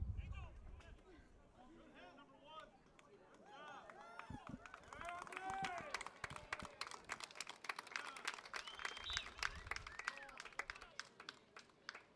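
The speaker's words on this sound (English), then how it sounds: "The audience clapping for Andre Marroquin" Crowd applause and cheering swells in the middle of a high school JV football game, with chatter and a commentator talking over it; several voices mix in the background.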